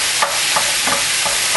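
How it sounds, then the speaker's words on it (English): Ground hamburger is chopped up in a frying pan, with a steady loud sizzle underneath and regular scraping chops of the utensil against the pan, about one every third of a second. "So we just want to chop up the hamburger to get it into small pieces."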